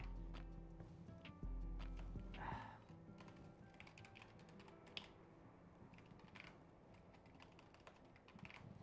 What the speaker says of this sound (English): Sorry, my keyboard is on my left side, so it's a little bit hard for me to type.